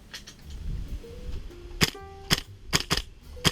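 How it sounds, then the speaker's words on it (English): A GHK M4 MOD 1 gas blowback airsoft rifle fires several sharp, snappy shots in quick irregular succession, each a crisp crack with a metallic clack, close by and without speech. "Firing this rifle is great."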